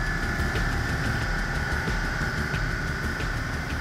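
A Bentley Continental GT W12 engine on a factory test stand gives a steady, loud drone with a constant mechanical hum and faint rhythmic pulsing, running continuously at a fixed speed with no voices.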